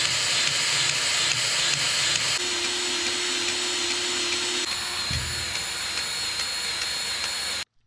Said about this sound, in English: I'll show you guys putting the penetrating oil.